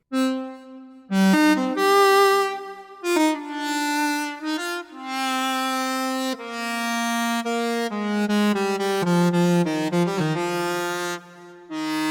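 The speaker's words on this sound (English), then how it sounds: "I'm going to add some reverb back to it." A synthesized cello melody rings out with added reverb, sustained notes and quicker passages trailing into a soft wash.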